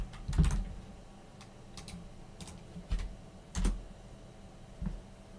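Keystrokes on a computer keyboard while entering Linux install commands, a sparse series of separate taps and a few heavier thumps spread across the stretch, close and alone with no voices.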